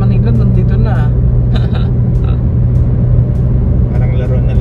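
Heavy traffic on the Skyway elevated expressway in Manila, with a low steady engine rumble close by and people talking over it in short bursts.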